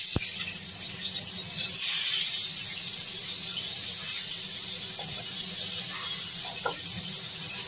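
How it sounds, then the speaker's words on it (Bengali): Pieces of marinated katla fish fry in a pan of hot oil, giving a steady, dense sizzle that hisses continuously and evenly from start to end at close range, with a few faint pops and no talking. "তেল গরম হয়ে গেছে, মাছগুলো ভেজে নিচ্ছি।"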